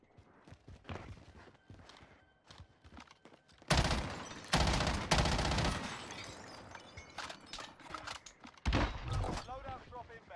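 Gunfire in the video game Call of Duty Warzone: a loud, rapid automatic burst in the middle and a later shorter volley, with quieter game noise and players talking around it.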